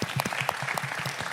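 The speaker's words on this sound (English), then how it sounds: "Let's give them a hand clap, guys." A brief burst of audience clapping at a business social event, quick irregular hand claps from a modest crowd, fairly close and short-lived with no talk.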